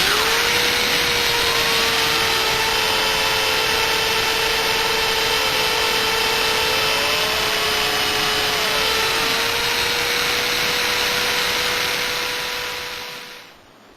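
A polishing machine working on a Valkyrie motorcycle wheel, a steady whining motor hum with pitch wavering as pressure changes, loud and continuous before winding down at the end.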